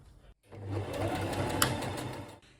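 A sewing machine stitches flimsy kimono fabric strips together, running in one steady, fairly quiet mechanical whir for about two seconds before stopping.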